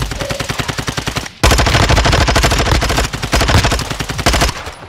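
Video game gunfire bursts out in rapid automatic volleys, loud and close, with a brief gap before a longer, denser stretch of sustained fire.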